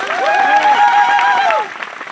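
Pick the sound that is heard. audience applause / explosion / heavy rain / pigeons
audience applause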